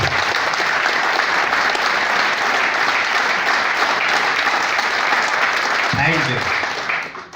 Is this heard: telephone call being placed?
no